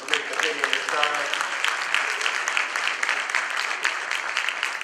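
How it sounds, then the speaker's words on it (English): A speaker's voice briefly leads into dense, crackling applause from a morning audience. The clapping then carries on at an even level with scattered sharp individual claps. "Let's give another round of applause for Ms. McKinney this time."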